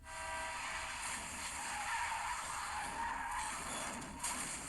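A car skids in a Twilight movie scene where it nearly hits a girl, a loud sustained tire squeal over engine noise lasting several seconds.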